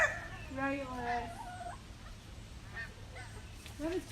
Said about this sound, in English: That was probably 50 Canadian geese flying over